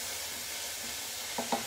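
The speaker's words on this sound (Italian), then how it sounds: "adesso iniziamo ad aggiungere il pomodoro" Tomatoes going into a hot pan for fish soup, giving a faint, steady sizzle with a couple of soft stirring clicks near the end.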